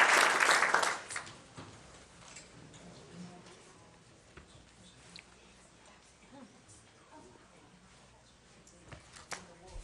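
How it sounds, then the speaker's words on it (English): An audience at a county school board meeting applauds in a loud burst that fades quickly within the first second or two, leaving quiet room noise with scattered faint sounds. "So let's give her a round of applause."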